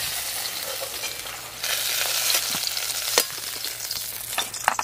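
Eggplant pieces fry uncovered in hot oil, giving a bright crackling sizzle up close that grows louder partway through, with occasional utensil taps and stirring, and no one speaking.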